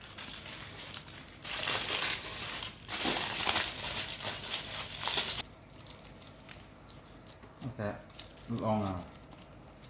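Aluminium foil crackles and crinkles loudly in dense bursts while being pressed around a cooking pot to seal it for kacchi biryani, then goes quiet as a voice speaks briefly near the end.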